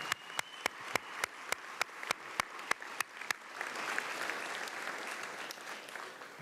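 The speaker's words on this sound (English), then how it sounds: "I think we need to give a round of applause to our donors." A graduation ceremony audience applauds its donors: about a dozen sharp, evenly spaced claps ring out first, then a broad, steady wave of crowd clapping swells and continues to the end.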